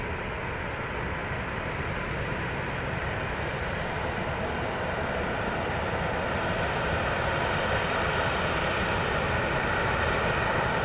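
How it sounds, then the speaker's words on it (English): Airplane engine roar near Dallas Love Field, a steady broad rumble that holds throughout without fading, echoing from below with no talking. "Oh, there's a plane."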